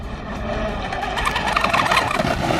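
A Pro Boat Veles 29-inch brushless RC catamaran runs at speed, its motor giving a high, continuous whine over a rough rushing wash of water, fairly loud and building slightly toward the end.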